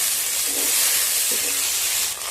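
Steady loud sizzling hiss of frying, broad and continuous, with a slight swell near the end.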